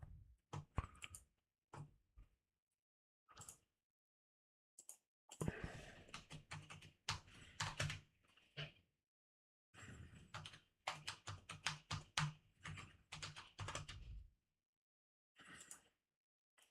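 Bursts of clicky typing on a computer keyboard, keys struck in quick clusters with short pauses between, close and fairly loud, no talking over it.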